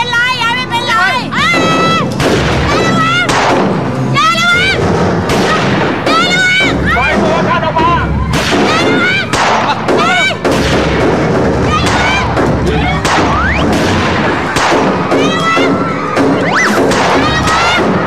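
In a Thai TV drama scene, gunfire and explosions boom and thud repeatedly for many seconds, loud and dense, mixed with shouting voices and music-like tones throughout.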